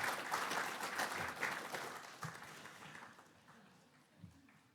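An audience at a members' meeting claps, a moderate patter of hands that gradually thins and fades out.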